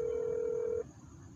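A single steady keypad tone from pressing zero on a phone during a bank helpline call, holding for under a second and then cutting off to quiet line hiss.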